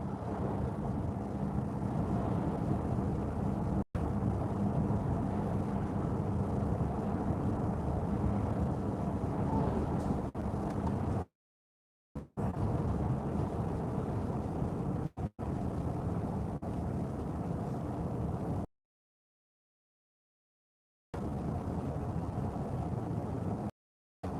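A Mercedes CLA 350 4Matic on a long Sunday drive gives a steady low road and engine rumble with wind noise from inside the cabin, broken by a few abrupt dropouts into silence.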